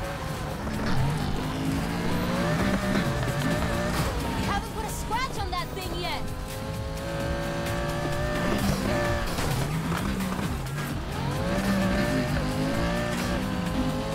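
A sports car in the Need for Speed Heat racing game revs steadily and climbs through the gears, its engine tone rising and falling in repeated sweeps with a constant loud drone, while someone talks over it throughout.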